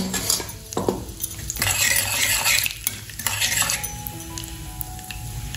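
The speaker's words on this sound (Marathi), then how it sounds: "खसखस तुपामध्ये छान भाजून घ्यायची आहे" Poppy seeds roasting in hot ghee for modak while a spoon stirs them in a metal pan, a close sizzle broken by repeated scraping and clinking strokes.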